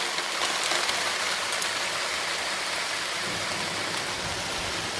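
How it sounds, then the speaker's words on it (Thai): Heavy hail pours down in a dense, continuous hiss of impacts that stays loud and even from start to finish, with no voices. "คลิปนี้ลูกเห็บตกค่ะอู้ อุ้ย ดูค่ะดูค่ะมาอย่างหนักเลย"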